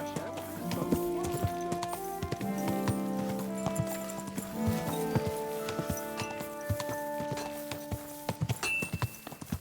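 A horse walks in Kingdom Come Deliverance II, its hooves clip-clopping in a steady, close rhythm over soft ambient noise, with a few brief spoken words and light gear sounds mixed in.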